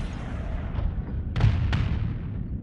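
A ship in Starsector launches missiles, heard as deep booming thuds with two sharper bursts rising over a rumbling low backdrop, loud and close.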